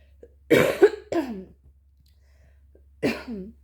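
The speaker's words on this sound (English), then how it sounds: "I need to clear my throat" A person clears their throat twice in quick succession, then again after a short pause, loud and close, with quiet in between.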